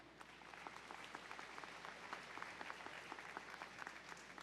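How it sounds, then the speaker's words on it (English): A large audience at a 2018 early college high school graduation ceremony applauds, an even wash of many hands clapping that sounds somewhat distant and stays constant throughout. "Please give yourselves a round of applause too."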